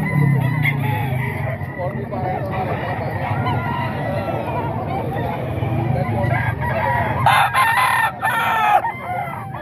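Several roosters crow loudly across a noisy poultry yard, with clucking hens and a few honking calls in the background.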